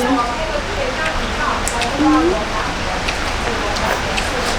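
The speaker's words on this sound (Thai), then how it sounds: "ฝนมา" Steady rain hisses across a surface in a dense, broad wash, close and continuous, while people talk over it.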